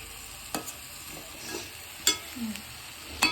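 Pieces of rohu fish frying in spicy Andhra-style masala at home, turned with a spatula: a steady low sizzle broken by a few sharp scraping clicks and taps of the utensil against the pan.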